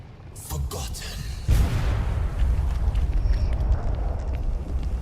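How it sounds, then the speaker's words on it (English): Barrel explosions in the video game Flintlock: The Siege of Dawn, one deep boom followed by a louder heavy blast with a long rumbling tail, under game dialogue and voices. "Those barrel explosions definitely do a bit of damage."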